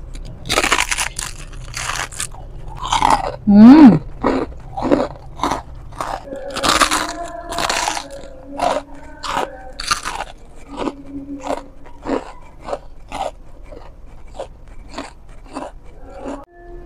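Repeated loud crunching bites into a crispy fried chicken wing with kremes crumbs, close up, with chewing and crackling between bites and a brief scrape, no talking.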